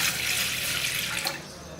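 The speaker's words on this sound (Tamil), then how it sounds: "அடுப்பில் ஒரு பாத்திரத்தை வச்சுக்கோம் இப்போ இதில் ஒரு டம்ளர் அளவுக்கு தண்ணியை" Water pours from a tumbler into a pot on the stove, a brief, bright splashing gush that stays close and fairly loud for under two seconds.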